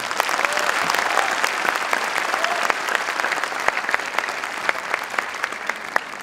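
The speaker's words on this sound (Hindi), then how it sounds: "एक बार ताली बजा के बताइए।" Audience clapping at an Independence Day poetry recital in India, a steady crowd applause with sharp individual claps standing out, moderately loud and continuous throughout, with faint voices beneath.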